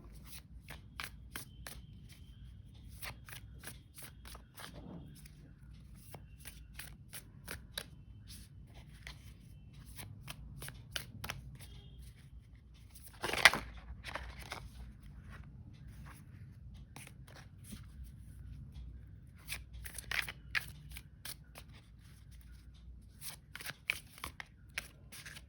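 Tarot cards are shuffled in quiet, close riffling bursts, with a few louder snaps and long soft pauses between them.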